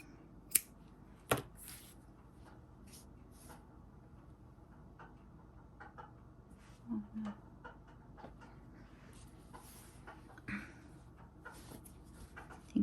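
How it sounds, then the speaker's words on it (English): Scissors cut yellow yarn while crocheting a left-handed Pizza Turtle: a few faint, isolated snips and clicks spaced out across a quiet room. "now you can cut off the yellow yarn"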